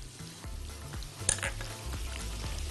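Garlic sizzles in hot butter for lentil soup, a steady frying crackle with a sharper burst of spitting as it hits the pan and some low clatter under it, close and moderately loud.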